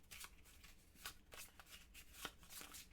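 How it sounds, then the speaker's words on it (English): A deck of cards is shuffled repeatedly at a board game table, a quick series of close, crisp riffling bursts in an irregular rhythm, quiet and alone without talk. "That's enough shuffling."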